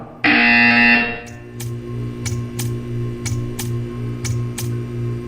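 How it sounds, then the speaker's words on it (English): A harsh electronic buzzer from the video game Portal 2 sounds loudly for about a second, followed by a steady low hum with a series of sharp ticking clicks spaced at regular intervals. "You will hear a buzzer."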